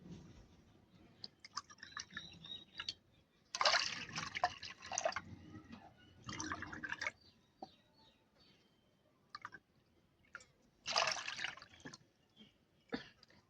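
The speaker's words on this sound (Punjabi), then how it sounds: "1 ਕੱਪ ਸਿਰਕੇ ਦੇ ਵਿੱਚ ਪਾਵਾਂਗੇ ਜੀ 2 ਕੱਪ ਪਾਣੀ ਦੇ" Water is poured into vinegar in a kitchen, producing soft, intermittent splashing and trickling bursts with quiet gaps between pours, faint and close.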